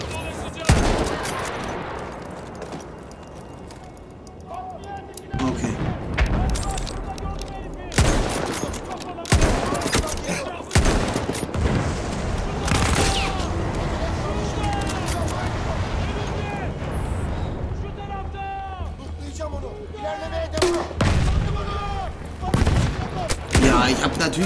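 Battlefield 1 gunfire, with dense overlapping rifle and machine gun shots and scattered louder bangs throughout a busy battle, sometimes near and sometimes further off, with someone talking intermittently.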